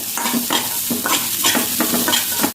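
Spiced masala fries in hot oil in a pan, sizzling steadily and loud up close while a spoon stirs it in repeated scraping strokes, with no voices.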